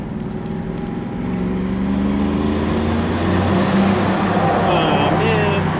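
A BMW M3 engine and exhaust drone steadily, a continuous rumbling tone that swells slightly in loudness partway through and holds, heard close up for several seconds.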